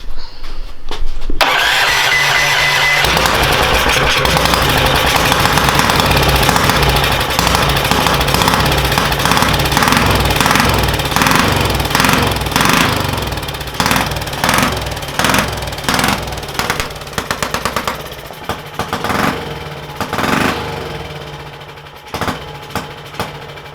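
A 440cc DuroMax engine fitted in a Kawasaki Mule cranks and fires up, then runs loud and close with rough, pulsing revs and uneven bursts that gradually ease.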